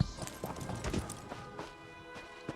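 Horse hooves clip-clop in a steady trotting rhythm within the Elder Scrolls Online video game, fairly close and moderately loud, with a faint voice briefly audible in the background.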